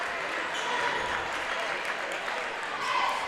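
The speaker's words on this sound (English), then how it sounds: "Get a good round of applause there." Crowd applause in a large indoor space at a school basketball game, steady and sustained through the whole stretch, with a faint bouncing ball and chatter mixed in.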